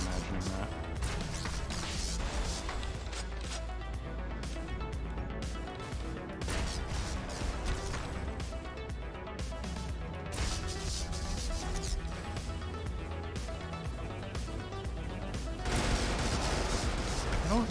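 Dense gunfire and heavy weapon bursts from small mechs in the Brigador video game, a continuous loud barrage of shots and impacts with no pauses.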